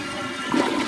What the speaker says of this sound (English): I can get it more powerful, but it won't flush all the way.